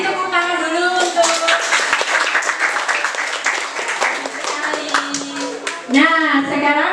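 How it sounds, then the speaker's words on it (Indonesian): A classroom of students claps for a presenting group during a teacher-training lesson, a dense burst of hand claps with children's voices talking and calling over it. "Tepuk tangan dulu untuk"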